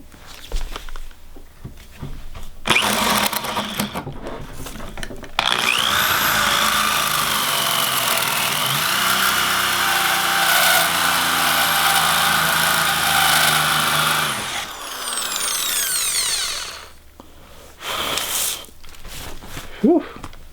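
A pilot drill bit bores through a Dutch door for a tiny house, giving a loud, continuous drilling whine that lasts about nine seconds. Shorter bursts of tool noise and handling sounds come before and after it.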